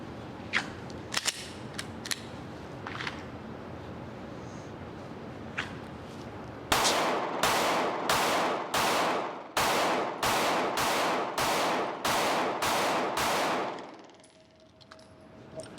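Glock pistol fired down range outdoors, about a dozen sharp shots in a quick even string after a few scattered earlier cracks, loud and close, then quieter ambience.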